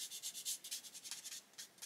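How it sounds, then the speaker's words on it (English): A very fine sanding sponge rubbed gently over a mask, a rapid series of soft, close, quiet scratchy strokes in a steady back-and-forth rhythm. "I just very gently rub the mask with a very fine sanding sponge"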